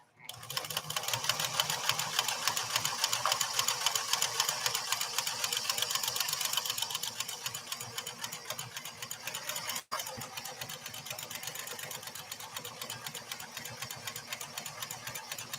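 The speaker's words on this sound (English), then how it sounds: "this is a light to medium duty sewing machine" A PFAFF 360 sewing machine, fitted with a leather needle, runs continuously at a fast, even stitching rhythm, close up, with a brief pause before it continues at a slightly lower level.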